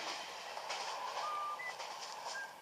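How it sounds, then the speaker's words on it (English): A train pulls into the station in the video game Animal Crossing: New Leaf, a soft rolling rumble with faint high whistle-like tones, moderately quiet and steady. "Train coming! Train coming! Train coming!"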